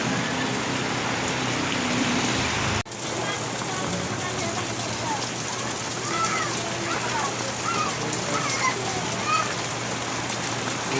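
Heavy, unbroken rain pours down in a dense, steady roar of drops on surfaces that fills the whole stretch, with one brief dip near the start.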